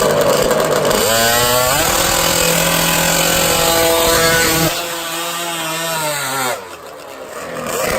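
A loud drag racing motorcycle from Matrix Machine, fitted with a Torrington head, revs hard at the quarter-mile strip. Its harsh engine note sweeps upward in pitch, then drops back and climbs again less loudly.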